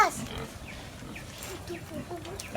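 Pigs jostling for food give faint grunts and squeals under a person talking, against a rustling, noisy background.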